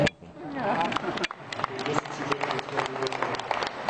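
Scattered claps from an audience at a herbal science talk answering a show-of-hands question, a loose patter of hand claps mixed with murmuring voices and crowd noise.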